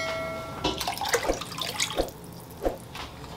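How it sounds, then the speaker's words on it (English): About six cups of water are poured into a cooking pot for Jamaican fish tea soup, giving a close, uneven splashing and gurgling with a few louder splashes. "now I'm going to add my water"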